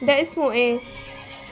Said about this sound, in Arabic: لا ده حصان